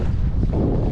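Steady, loud wind with hail buffeting the microphone in a low roar with gusty fluctuations while spring pike fishing, no voices.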